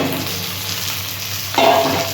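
Chopped onion and tomato frying in hot oil in a pan for a Bengali jackfruit curry, a steady close sizzle that jumps louder and brighter near the end as the onion hits the oil.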